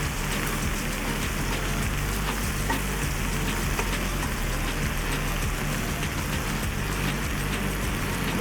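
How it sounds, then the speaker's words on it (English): A blackened pan is deglazed with vegetable stock and wine for a beef and mushroom stew, giving a loud, constant hissing sizzle like heavy rain that holds evenly throughout. "the deglazing of our beautiful blackened pan. And we are about to do that with our veggie stock"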